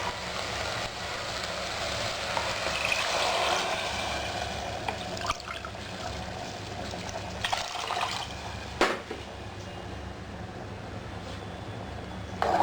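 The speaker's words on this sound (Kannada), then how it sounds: "ಇದು 1 ಕಪ್ ಅಕ್ಕಿಗೆ ನಾನು 2 ಕಪ್ ನೀರು ಹಾಕ್ತಾಯಿದ್ದೀನಿ." Water is poured from a cup into a pot of little millet with spices for khichdi, a steady close trickle and splash running for several seconds, quiet and without any talking.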